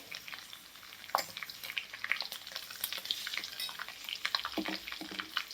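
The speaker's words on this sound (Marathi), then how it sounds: "याच कलरवरती आपल्याला हा बदाम फ्राय करून घ्यायचा आहे" Almonds frying in a pan, a soft, fairly quiet crackle with small irregular pops and a few brighter scrapes of stirring, close by and without speech.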